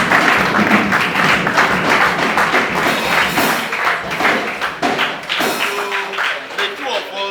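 An audience at a Rotary Club of Ikeja event in Lagos breaks into sustained applause, dense clapping that stays loud for several seconds before thinning slightly toward the end.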